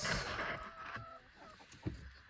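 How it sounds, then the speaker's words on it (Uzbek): Faint, soft clucking of chickens nearby, a few short calls scattered over a quiet, low-level background. "Xo'p, mana tovuqlar."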